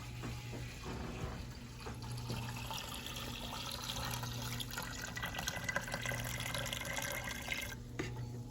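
Water runs steadily into canning jars, filling them about three-quarters full for canning venison, a continuous close splashing pour with a few faint knocks throughout.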